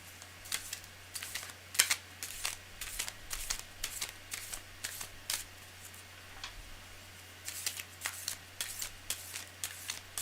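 Large tarot cards being shuffled by hand, a run of crisp riffling bursts in irregular clusters with short pauses between them, close and clear over a faint low steady hum, no talk.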